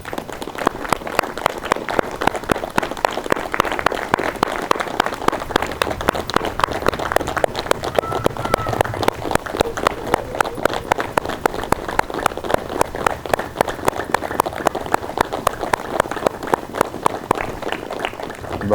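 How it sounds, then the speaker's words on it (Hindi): A yoga class claps loudly and continuously in a long, rapid, even run of hand claps from many participants, close and sustained, with no talk over it. "अब सब लोग जोरदार तालियां बजा लीजिए अपने लिए।"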